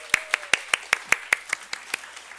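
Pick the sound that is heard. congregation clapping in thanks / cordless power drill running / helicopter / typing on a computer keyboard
congregation clapping in thanks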